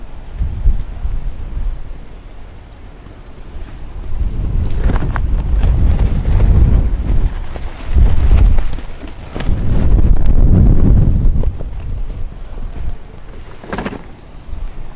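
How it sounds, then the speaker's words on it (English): Wind gusts buffet the microphone outdoors in Florida near a Permobil M3 power wheelchair, swelling in loud rumbling bursts and easing between them, with no speech. "Very windy here today in Florida."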